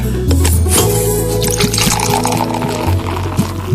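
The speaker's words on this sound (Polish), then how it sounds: "tylko się napiję wody." Water pours steadily into a glass for drinking, a continuous close gurgling fill with rising tone, loud and alone without talk.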